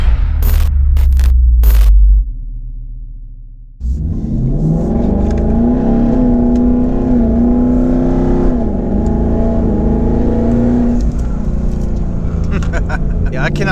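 A 2019 twin-turbo Ford Mustang accelerating from a rolling start, its engine rising in a loud, close, sustained roar after a short pause, with a person talking over the opening seconds.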